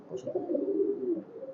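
A red-throated (golaylal) highflyer pigeon coos softly and continuously at a pigeon loft in Khulna, a low throaty burble lasting over a second, close by.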